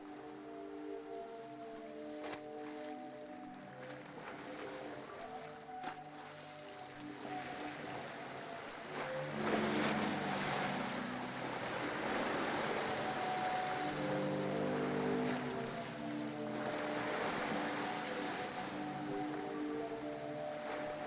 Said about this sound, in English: So as the waves move, they push air through these pipes.